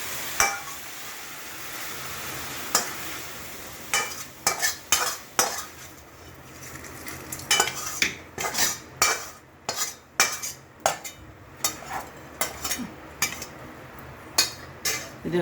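Pea greens fry in a pan with poppy seeds and lentil dumplings as a utensil stirs them. Sharp, irregular scrapes and clinks against the pan grow more frequent over a soft, steady sizzle.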